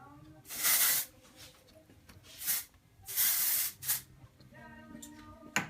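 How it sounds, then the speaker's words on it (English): Several short hissing bursts from an aerosol hair texture spray can sprayed onto hair roots, close up and fairly loud, separated by brief quiet gaps. "So literally you just want to pick it up, spray the roots a little bit."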